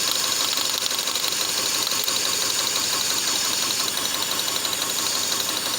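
A 4-cylinder car engine running on only two cylinders holds a steady, rough, uneven idle up close, with a constant dense rumble and no talking.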